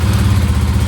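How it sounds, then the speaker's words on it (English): Kawasaki KLX300R dirt bike engine running after a hardwired ignition fix, a loud, close, steady low thrum of the single-cylinder motor. "I'll plug it back into the bike. Starts."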